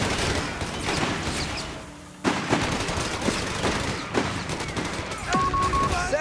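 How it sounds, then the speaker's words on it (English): Artillery barrage and gunfire in the Company of Heroes 3 video game: dense bursts of distant machine-gun fire and booming shell blasts, with a game voice line heard briefly over the steady battle din. "Artillery barrage underway."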